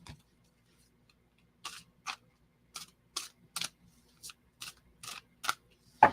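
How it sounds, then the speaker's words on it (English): Tarot cards shuffled in quick bursts, roughly nine short crisp riffles spaced about half a second apart, close and fairly quiet with no talking. "I'm going to do a cleansing shuffle here for the next person in line."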